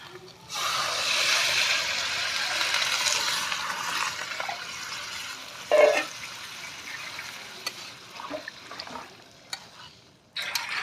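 Water poured into a pot of browned meat curry at an outdoor New Year picnic, a hissing sizzle that rises sharply and then settles into a softer bubbling simmer, with a few clinks and brief voices.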